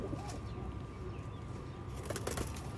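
Pigeons in a breeding loft, a newly paired male and female of the Mian Nazir bloodline, coo softly and steadily under a constant low background hum, with a brief rustle of movement near the end.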